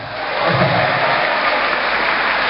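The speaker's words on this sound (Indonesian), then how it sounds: "Yang bingung tepuk tangan." Audience members at an Indonesian technopreneurship lecture clap together, the applause swelling quickly and holding as a dense, even roar of hands for the rest of the moment.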